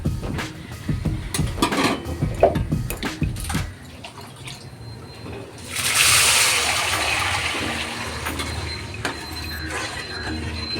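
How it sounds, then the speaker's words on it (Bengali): Water is poured into a karai of fried moong dal, a loud splashing rush that starts midway and keeps going. Earlier there are kitchen clatters and stirring sounds. "এখন জল দিয়ে দেব"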